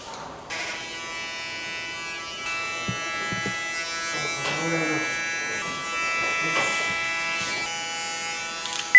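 Electric hair clippers cutting hair short at a barber shop in Skopje, North Macedonia, a steady close buzzing hum that runs continuously, with voices talking faintly underneath.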